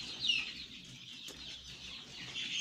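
Chickens clucking faintly in a poultry shed, a soft continuous murmur of hen calls with one slightly louder squawk near the start, no voices present.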